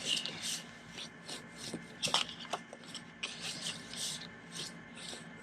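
A paper fold on a holiday gnome treat box burnished with a bone folder, heard as soft, close rubbing strokes in short repeated passes, quiet and steady without speech.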